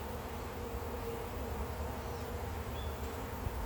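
Honeybees buzz in a steady, dense drone around an open backyard hive being inspected, a continuous close hum with no talk over it.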